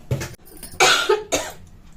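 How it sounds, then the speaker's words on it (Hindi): A person gives several harsh coughs in quick succession, close and fairly loud, with short breaths between them and no speech. "मुझे खांसी हो गई"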